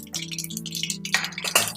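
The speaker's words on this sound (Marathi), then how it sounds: "मोहरी छान तडतडली की याच्यामध्ये आपल्याला टाकायचंय जिरं" Mustard seeds and cumin crackle in hot oil as tempering for upit, giving rapid, irregular close pops and sizzling ticks over a faint steady hum, with no voices.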